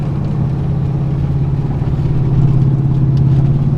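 A pickup truck engine runs steadily after repair with a low, even rumble and a slight rise in intensity toward the end, close and continuous.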